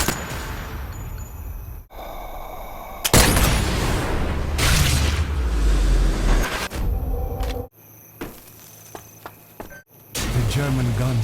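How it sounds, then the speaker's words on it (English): An enemy grenade explodes in the World War II shooter Sniper Elite VR, a heavy low boom with a rumbling tail, surrounded by game ambience and shouted voices. "Feindliche Granate!"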